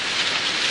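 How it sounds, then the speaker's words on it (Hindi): Rain falling as a steady, close, dense hiss with no pauses during a short moment in an animated scene. "बारिश हो रही है।"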